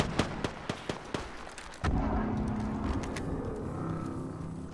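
Apex Legends gunfire comes as a quick run of sharp shots, about eight cracks in under two seconds. A denser burst of game noise follows, fairly quiet overall and with no talk.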